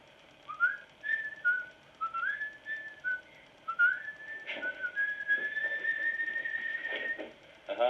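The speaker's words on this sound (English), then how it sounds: "that's just me whistling" A person whistles a wandering tune close by in a quiet room, with short rising phrases and then longer held notes, alone with no talking.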